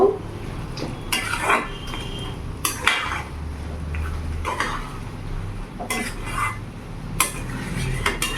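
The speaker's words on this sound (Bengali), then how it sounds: "ভালো করে আমি নাড়াচাড়া করে নেব" A utensil scrapes and clinks against a pan while bottle gourd and prawn curry is stirred, with irregular metallic scraping strokes and knocks, close up and without talk.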